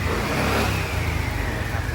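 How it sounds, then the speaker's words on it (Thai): A 2019 BMW C400GT ABS scooter engine revs up close, a continuous loud buzzing drone that holds steady for about two seconds. "นี่ครับเครื่องยนต์"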